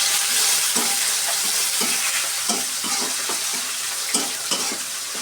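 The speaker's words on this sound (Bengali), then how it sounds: "চিংড়ি মাছটাকে ভেজে নেব হালকা করে," Prawns seasoned with salt and turmeric fry lightly in oil in a pan, a steady loud sizzle broken by regular scraping knocks of a spatula stirring them, with no talking.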